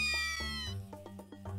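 A cartoon cat in the farming video game Stardew Valley meows with a bright, tonal chirp, followed by a few short, soft clicky game sounds over a steady low hum.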